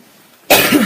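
A single sharp, loud cough bursts out about halfway through after near silence, harsh and close, followed by a rough throat-clearing rasp.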